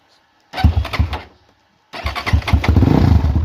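A Kovi 300 Pro S enduro motorcycle engine makes a brief first attempt to start. After a short pause it fires up and settles into a loud, close, throbbing idle.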